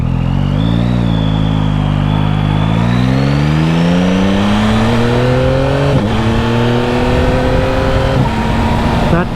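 A 2025 Yamaha MT-09 SP motorcycle on the road, its engine loud and close as it revs up through the gears, pitch climbing steadily with two clean quick-shifter upshifts, recorded from the rider's position.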